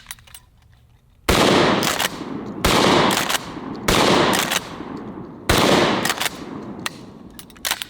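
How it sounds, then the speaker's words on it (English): A pump-action trench gun shotgun fires four loud, sharp blasts spaced roughly a second and a half apart, each with a short ringing decay, recorded close with no talk. "So we'll shoot the trench gun first, and then we'll get out our regular pump action shotgun."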